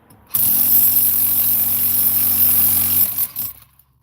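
A hammer drill runs at close range in one continuous, loud burst of about three seconds, a harsh buzzing rattle with a shrill high whine, then winds down into quieter handling noises.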